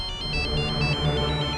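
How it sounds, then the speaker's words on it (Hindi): A phone ringtone plays as a bright, repeating electronic melody in regular short pulses, clear and steady over a low background hum. "मोक्ष, मोक्ष, तुमने मुझे फोन क्यों किया?"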